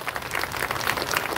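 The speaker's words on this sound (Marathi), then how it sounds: "त्यांच्यासाठी जोरदार टाळ्या होऊन जाऊ दे" An audience at a women's self-help group business event in Parbhani gives a burst of steady, fairly loud applause, a continuous wash of many hands clapping together.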